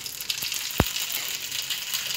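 Mustard seeds and dal tempering in hot oil for a Tamil drumstick masala poriyal, a steady soft frying sizzle with a single sharp pop near the middle, close and moderately quiet.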